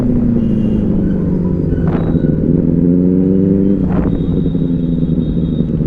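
A Triumph Street Triple 765 motorcycle revs its exhaust on a night ride, giving a steady, loud engine rumble whose pitch slides up and down, with brief throttle blips near the two- and four-second marks.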